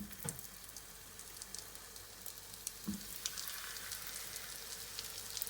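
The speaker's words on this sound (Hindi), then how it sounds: "ये मैंने ऑयल गरम कर लिया है। अब हम लोग इनको करेंगे फ्राई।" Chicken hot rods sizzle in hot oil, a soft, steady frying hiss with a few louder crackles and a utensil clink, no voices.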